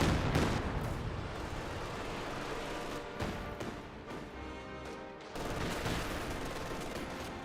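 An artillery barrage rumbles through a Company of Heroes 2 battle, with a continuous roar of heavy blasts and crackling fire, loud and dense, easing slightly midway before swelling again.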